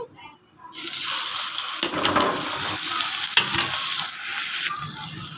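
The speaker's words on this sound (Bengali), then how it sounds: "এখন দিয়ে দিব কিছুটা পেঁয়াজ কুচি।" Chopped onion drops into hot oil in a wok-like kadai and bursts into a loud, steady sizzle, with stirring scrapes through the frying, as the base of a poa fish bhuna is cooked.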